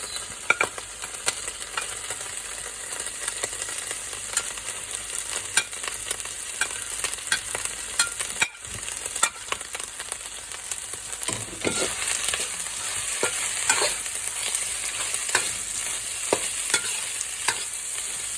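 Carrot, leek and peppers stir-fry in hot oil with a continuous loud sizzle, broken by frequent close scrapes and clicks of a utensil moving the vegetables around the pan.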